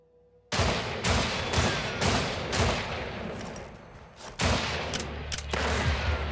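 Gunshots in the video game Weird West: loud, sharp reports firing in rapid bursts after a brief quiet start, with a couple of heavier booms near the end.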